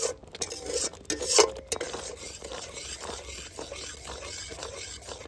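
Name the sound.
stirring homemade sauce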